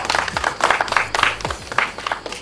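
An audience claps briefly in scattered, uneven applause, with a voice speaking over it.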